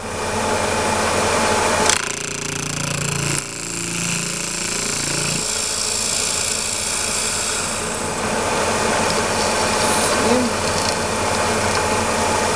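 A home lathe machines a metal cube held riskily in the chuck, taking light passes: a steady, loud mechanical whir and chatter runs throughout, with a brief change in tone near the start.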